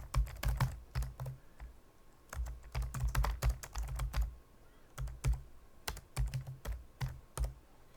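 Close, crisp clatter of a computer keyboard as a caption is typed, coming in quick bursts of keystrokes separated by short pauses.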